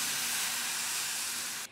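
A bright, steady hiss like something sizzling, holding evenly for under two seconds before cutting off abruptly at the end.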